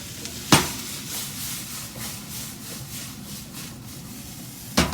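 Asian vegetables stir-fried over high heat hiss in a steady, close sizzle, broken by two sharp clanks of a utensil against the pan.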